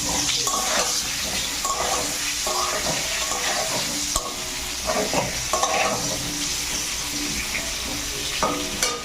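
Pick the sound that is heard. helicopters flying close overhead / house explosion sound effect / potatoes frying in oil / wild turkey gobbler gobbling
potatoes frying in oil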